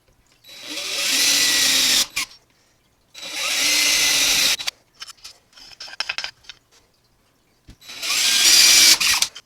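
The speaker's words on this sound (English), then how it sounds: "let's drill them out." A power drill bores out pre-marked holes for a homemade paint jig rack in three loud bursts of several seconds each, with a scattering of brief clatters between the second and third runs and no talking.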